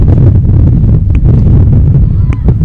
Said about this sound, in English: We're seeing some windy conditions here on our side of things.